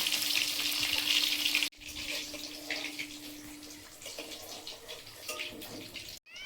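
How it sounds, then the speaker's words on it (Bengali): Rohu fish frying in oil in a pan gives a continuous, moderately loud sizzle and spatter, with shifting texture and two abrupt breaks where the sound cuts out briefly. "মাছগুলো ওইদিকে লাল লাল করে ভাজা হয়েছে এগুলো এবার তুলে নেবো"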